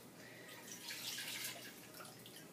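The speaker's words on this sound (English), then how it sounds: "by slowly pouring the liquid into the bigger containers" Liquid is poured slowly from a small container into a large darkroom container, giving a steady close trickling and splashing that swells midway and runs continuously.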